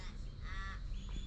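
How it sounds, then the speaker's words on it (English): An unfamiliar bird in the Australian outback gives one harsh, crow-like call, fairly distant and brief, over a steady low background hum. "Never heard a bird that sounds like that before."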